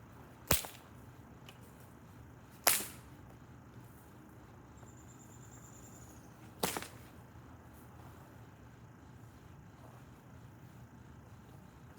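Whip cracks three times outdoors on a snowy slope, each a sharp, loud snap spaced a few seconds apart, with quiet background between them.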